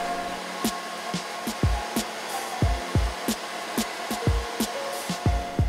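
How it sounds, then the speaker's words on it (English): A hair dryer blows with a steady, loud whooshing hum, warming a car surface for a carbon fiber lip spoiler install, punctuated by regular soft thumping knocks close by. "used a hairdryer to warm the surface"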